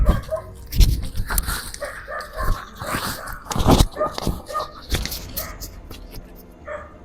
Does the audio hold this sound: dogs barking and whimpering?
yes